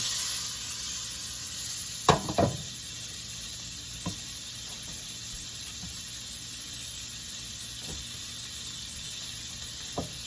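Sweet Italian sausage cooks in butter in a pan, giving a steady, low sizzle that runs throughout, with a few sharp clinks or scrapes near the start and later on.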